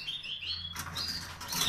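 Spanish Timbrado canaries chirp in an aviary, bright high tweets and trills in quick bursts, then a busier flurry of calls with faint wing flutter, close by and without talk.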